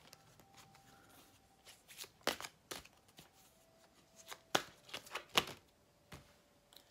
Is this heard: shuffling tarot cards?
yes